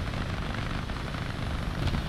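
Helicopter rotor and engine noise in the War Thunder combat game, a steady broadband drone held close and loud throughout with no pauses or talk.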